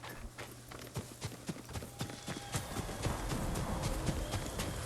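Steady clip-clop of a horse's hooves galloping in Ghost of Tsushima, a quick even rhythm that grows slightly louder and denser over the low hum of the game.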